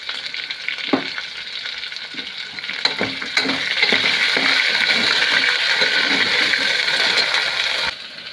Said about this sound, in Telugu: ఇప్పుడు ఇందులోకి అల్లం పేస్ట్ వేసేద్దాం